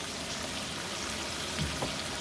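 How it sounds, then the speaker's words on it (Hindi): Masala of garlic, coriander, green chillies and turmeric fries with chicken liver in a pan, a steady close sizzle and crackle throughout with a couple of faint stirring knocks near the end. "अच्छी तरह मसाले को भून लेते हैं। कलेजी भी भूनती जाएगी, मसाला भी इसके साथ साथ भून जाएगा अच्छी तरह।"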